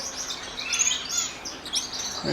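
Small finches chirp in quick, high, overlapping tweets, close by and fairly clear, over a light background hiss.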